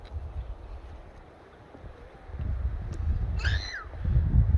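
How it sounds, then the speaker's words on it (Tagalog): Wind gusts over a camp at Ghost Public Land in Canada, a low rumbling wash that grows stronger in the second half, with a brief bird chirp partway through. No one speaks. "Ayun yung hangin."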